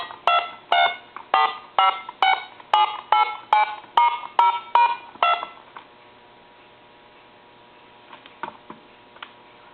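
Dialing tones play through a lineman's telephone buttset speakerphone: a rapid run of about a dozen evenly spaced beeps, then a steady line tone with a few faint clicks near the end.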